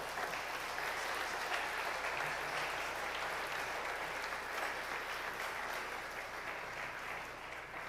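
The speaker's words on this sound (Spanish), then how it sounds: "Dele un aplauso al Señor." A church congregation applauds during a Spanish-language sermon, a steady, dense wash of clapping that holds for several seconds with no voices on top.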